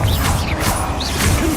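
A Bombarda explosion spell in Hogwarts Legacy lands as a short crash with whooshing, rattling debris over busy game combat noise.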